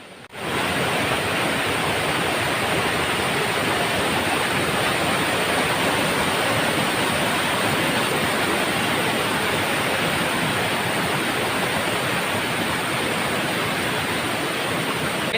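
Akkachery waterfall at Maukode, in a forest, pours with a steady, dense rushing roar of falling water that stays loud and unbroken throughout, with no voices.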